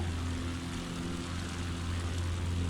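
Steady propeller airplane engine drone in Microsoft Flight Simulator 2020 as throttle is raised, a continuous loud hum with strong low tonal bands holding throughout, no talk over it.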